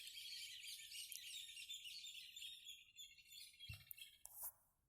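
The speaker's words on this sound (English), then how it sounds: "The morning birdies." Small birds chirp and tweet in the morning outdoors, bright high calls repeating for several seconds. The sound is faint and distant, with a brief low thump near the end.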